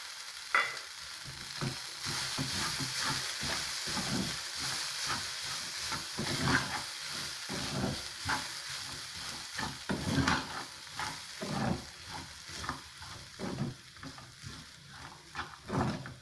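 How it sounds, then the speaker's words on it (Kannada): Cooked rice being stirred and mixed in a pan for chitranna, with repeated scraping strokes over a soft sizzle, close and steady with no talk. "ಈಗ ರೆಡಿ ಮಾಡಿಟ್ಟಿದ್ದೀವಲ್ಲ, ಆ ಅನ್ನನ ಮಿಕ್ಸ್ ಮಾಡಬೇಕು."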